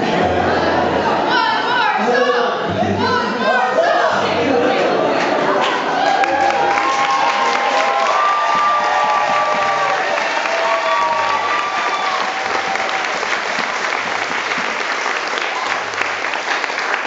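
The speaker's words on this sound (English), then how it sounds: "we'll just take that really nice round of applause that we have here" A concert audience gives a sustained round of applause with chatter and scattered cheers, the clapping steady and full while a voice talks over it and brief tonal sounds drift through the middle.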